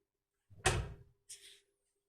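A door fitted with a new closer swings shut, giving a soft muffled thud followed by a brief quieter click of the latch, both near and isolated in silence.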